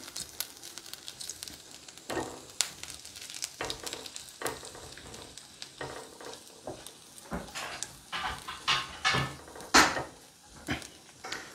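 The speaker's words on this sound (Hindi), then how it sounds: "मैं इसमें डालूंगा जिंजर थोड़ा सा उसको थोड़ा सा फटाफट हम स्टर फ्राई कर लेंगे" Ginger is stir-fried in a pan, soft sizzling under a run of scraping and tapping strokes from a utensil against the pan, irregular knocks that grow louder and busier toward the end, with no voices.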